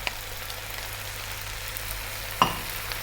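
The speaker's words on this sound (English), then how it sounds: "stay on this high heat and let's go for 4 to 5 more minutes, stirring pretty much all the time here now" Bok choy (pechay) and bean sprouts are stir-fried on high heat for an oyster-sauce vegetable dish. A steady, low sizzle runs throughout, with one sharp clank of utensil on pan near the end.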